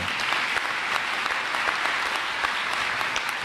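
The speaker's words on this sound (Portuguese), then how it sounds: "peço uma salva de palmas a toda a equipe da Secretaria Municipal de Educação de Limeira" Dense, sustained applause from a sizable crowd at the opening of a municipal education technical meeting in Limeira, many hands clapping evenly at a steady level throughout.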